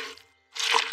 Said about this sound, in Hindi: ओहो, जॉर्ज ने अपना स्पंज मिट्टी के गड्ढे में गिरा दिया।